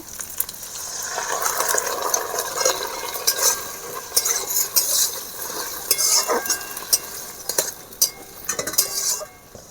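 A spoon stirring a mixed sauce for egg chilli in a bowl, with continuous close clinking and scraping against the dish throughout.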